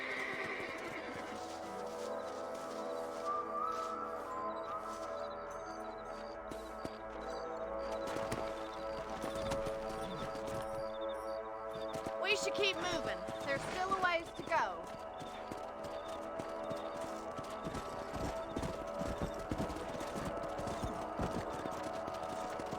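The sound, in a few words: horses riding from the Red Dead Redemption video game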